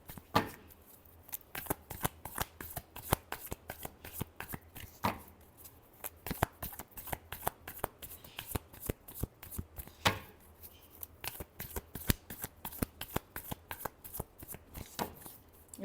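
Tarot cards being shuffled by hand in a long run of rapid, crisp riffling flicks and soft slaps, steady and close, with no voices.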